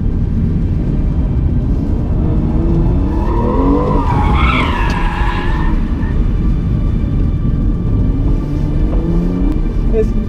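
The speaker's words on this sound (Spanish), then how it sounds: "Para poder en una curva tan cerrada poder hacer drift" A BMW M2 Competition drifts through a tight curve, tires skidding and squealing over a loud, steady engine roar that peaks midway and continues throughout.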